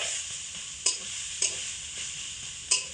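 Ground coconut is stirred in ghee in a pan, giving a steady hissing sizzle broken by three sharper scraping stirs of a spatula against the pan; no one speaks.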